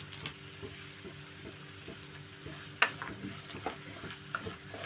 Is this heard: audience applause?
no